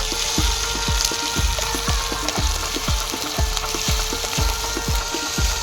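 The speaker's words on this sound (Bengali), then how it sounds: "এবার দিয়ে নেব আদা রসুন," Ginger and garlic fry in a pan for a Kerala-style curry: a loud, steady oily sizzle runs throughout, punctuated by regular spatula knocks and scrapes about twice a second.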